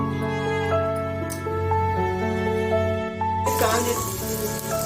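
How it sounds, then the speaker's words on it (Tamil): Oil poured into a heated pan on a stove while preparing a ridge gourd and egg podimas, a soft sizzle under steady hum that bursts into a louder, bright hiss near the end. "பாண்டில் காய்ச்சிட்டுதுன்னா எண்ணெய் ஊற்றுறேன்"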